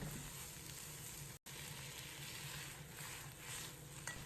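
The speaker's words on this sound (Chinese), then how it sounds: "再放入准备好的白菜叶子，开大火快速翻炒，把白菜炒至塌陷。" Napa cabbage leaves stir-fried over high heat in a wok, giving a continuous loud hiss and sizzle, close and steady, with a momentary break partway through.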